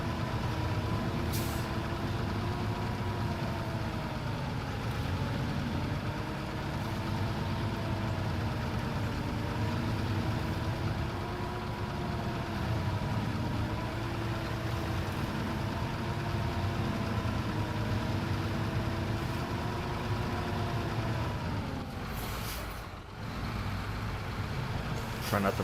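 A Fleet Star truck engine runs steadily in SnowRunner, a loud continuous diesel drone with wavering pitch as it hauls a trailer through muddy woods, with a brief hiss near the end.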